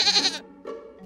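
A sheep bleats twice, a loud wavering call followed by a shorter, softer second cry, close and alone with no talk.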